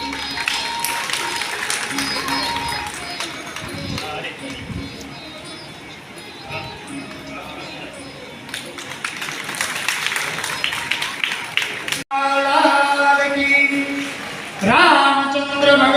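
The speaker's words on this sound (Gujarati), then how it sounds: "જોરદાર તાળીઓથી વધાવશું" Audience applause at a ceremony where guests are honoured with shawls, a long spread of clapping and crowd noise that swells loudly near the end, with voices over it.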